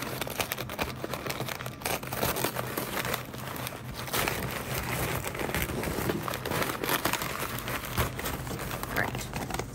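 Embroidery stabilizer torn away from fabric by hand, a dense, continuous crinkling and ripping rustle that stays steady and close for the whole stretch.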